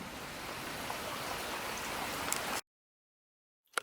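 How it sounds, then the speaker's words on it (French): Steady rain pours down during a summer thunderstorm, a dense close hiss that runs evenly and then cuts off abruptly into silence. "il pleut, il y a de l'orage"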